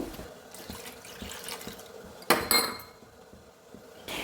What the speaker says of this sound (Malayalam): നന്നായിട്ട് വെള്ളമൊഴിച്ചു